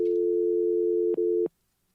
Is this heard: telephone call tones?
yes